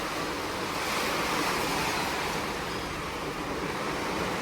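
Heavy monsoon rain pours steadily outdoors in a village, a dense, unbroken roar of fairly loud hiss with no pauses.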